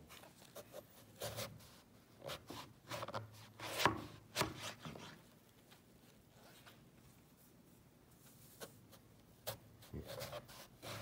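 A long knife slices through pond lily root in repeated rasping, cutting strokes. The strokes are quiet and close, bunched at first and then sparser, with pauses between them and no talk.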